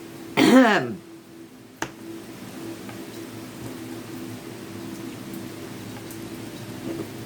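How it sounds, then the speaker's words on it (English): Steady rain falls outside, a continuous soft hiss throughout, with a brief louder burst near the start and a sharp knock partway through. "It's really raining."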